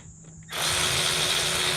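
A power tool driving in 13 mm bolts: a steady, close, buzzing mechanical whir that kicks in abruptly after a faint hum and holds at an even level.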